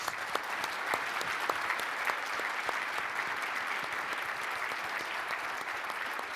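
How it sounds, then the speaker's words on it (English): Sustained applause from a seated audience at a family business speaker event, an even wash of many hands clapping at moderate level, unbroken for several seconds. "let's have another round of applause for Jamie, please"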